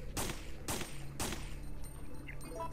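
Three loud, heavy gunshots from a firearm in Resident Evil 3, each with a sharp broadband crack and a booming tail, spaced about half a second apart, followed by a quieter mechanical rattle.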